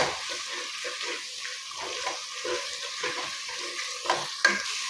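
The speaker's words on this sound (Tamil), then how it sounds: "இந்த காய்கறியை கொஞ்சமாவது அந்த மசாலாவில் நல்லா வதங்க விடணும்." Vegetables sautéing in masala for a village-style vegetable biryani, a soft steady sizzle with repeated scraping stirs of a spoon in the pan, close and unaccompanied by talk.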